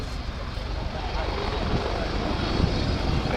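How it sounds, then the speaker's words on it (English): An Apache Longbow helicopter at the RAF Fairford air show gives a steady, continuous roaring rumble that fills the air with broadband noise, loud and close, with no distinct beats. "here down the runway comes the imposing, menacing shape of the Apache"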